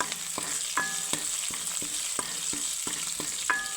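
Mustard seeds, cumin, garlic and curry leaves spluttering in hot oil, a continuous sizzle broken by regular sharp pops and crackles, close and fairly loud, with no talking.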